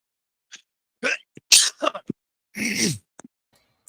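A sudden, close sneeze bursts out amid a few short breathy vocal noises, with silence in between.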